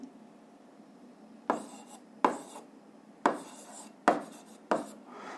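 Pen strokes on paper while working through a physics calculation: five separate scratchy, tapping bursts spaced about a second apart, close and fairly quiet, with no talking.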